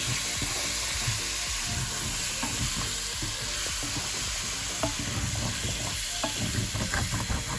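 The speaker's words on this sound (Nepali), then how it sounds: "मैले 2टा टमाटरको चप गरेको थिएँ, त्यही राख्दैछु। चलाइदिने।" Chopped tomatoes fry in a pan while being stirred, a steady loud sizzle with soft scraping strokes throughout and no talk.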